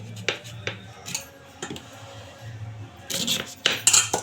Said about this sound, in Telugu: కడిగిన కాయలను ఇలా కోసుకోవాలి.